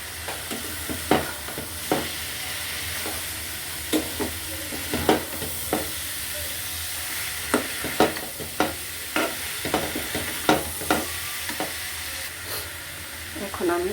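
Taro stolons fry with prawns in a pan under a soft, continuous sizzle, while a spoon scrapes and stirs them in repeated, irregular strokes close up.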